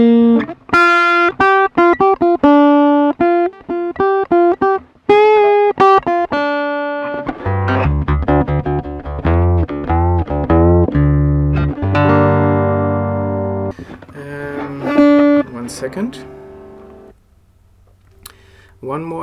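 Overdriven electric guitar through a Zoom A1X Four multi-effects pedal's drive effect, clean picked notes giving way to thick distorted chords and single notes, loud and sustained, playing alone.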